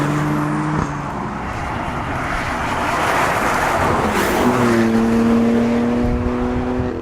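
A BMW M3 and an Alpina D3 accelerate hard to 100 mph, a loud sustained engine roar with rising harmonic tones that shift through gear changes midway, wind and road noise throughout, no talk.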